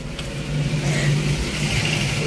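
A Mitsubishi L300 delivery van's engine drones steadily close by as it pulls away, a short moderate rumble rising slightly in pitch.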